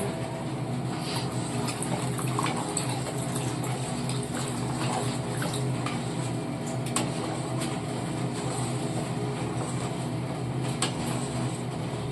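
Boiled cow's milk being poured into a pot while cooking paal kozhukattai, a steady liquid pour heard close and continuous throughout with no talking.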